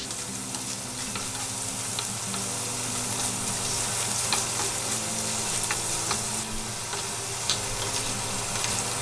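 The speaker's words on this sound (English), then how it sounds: "Try to fry them in a single layer." Shrimp frying in a single layer in a pan for a Bengali potato prawn curry, a steady bright sizzle throughout with occasional stirring scrapes and crackles, no voices.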